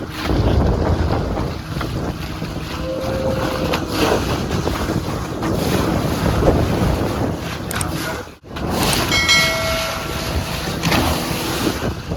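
A boat engine drones steadily on the open sea off Malpe, Udupi, mixed with heavy wind buffeting and the wash of the sea, continuous and loud throughout.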